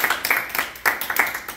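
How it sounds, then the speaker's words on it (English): A small audience at an evening talk on faith and pharmacology gives a brief round of scattered clapping, individual claps audible in an uneven patter. "everyone please give a round of applause"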